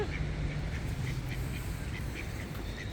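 Ducks quack in a steady cluster over continuous outdoor background noise as they squabble over thrown bread and ice cream, with soft voices faintly underneath.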